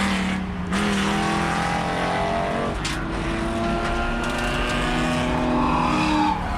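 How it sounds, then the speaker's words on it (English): From inside a race car entering a racetrack, a loud engine drones steadily while other cars roar past, with shifting pitch and brief tire noise over a constant rumble. "I was about to enter onto a racetrack with all these cars flying by"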